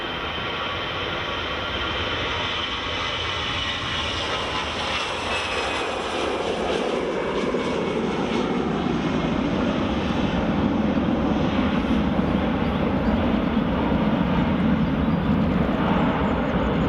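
A British Airways airliner lands at Edinburgh Airport, a loud, steady jet roar building and broadening over the whole stretch, heard alone without talk.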